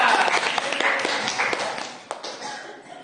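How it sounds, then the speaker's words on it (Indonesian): Brief applause for a student named Aksa during an online Quran recitation lesson, a short scatter of close, light hand claps and taps that thins out after a couple of seconds. "tepuk tangan untuk Aksa"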